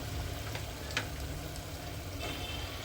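Mutton dropped into a frying onion-tomato gravy, a steady low sizzle with a few faint clicks of stirring, close and continuous without talk.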